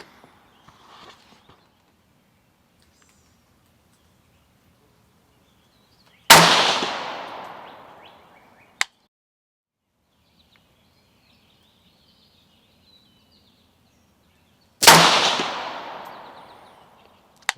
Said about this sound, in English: There's 2 shots downrange.